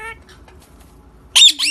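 A pet parrot lets out a sudden loud, shrill squawk close up after a quiet stretch, with a faint voice heard just before.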